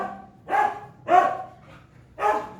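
Several old dogs barking at a passerby on a residential street, three loud, close barks spaced about a second apart with a faint whine between them.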